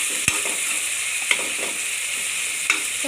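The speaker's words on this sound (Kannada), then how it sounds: "ಟೊಮೆಟೊ ಎಲ್ಲ ಫ್ರೈ ಆಗಬೇಕು." Tomatoes frying in a pan of hot oil give a steady sizzle, broken by a few soft knocks of a spoon stirring the pan. No one speaks.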